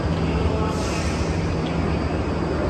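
Broadband rushing noise of a train moving past, a continuous loud roar with steady rumble underneath and no voices.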